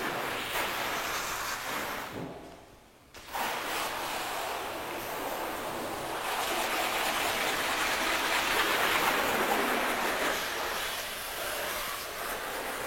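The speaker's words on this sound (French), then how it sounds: "Une fois qu'on a arrosé le véhicule," Hose spraying water over a car during a wash, a steady broadband hiss and splatter that cuts out briefly, then resumes and continues strongly to the end.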